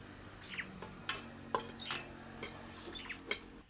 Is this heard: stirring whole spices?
yes